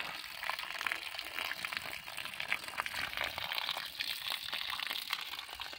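Water flows steadily from a hydraulic ram pump with a differential valve, a continuous faint hiss and splash with light bubbling, no talk over it.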